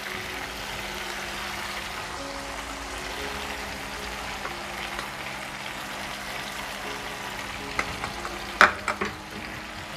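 Chicken frying in a pan with ginger garlic paste, chilli powder and salt, a steady soft sizzle with occasional stirring, then a few sharp scrapes and knocks near the end.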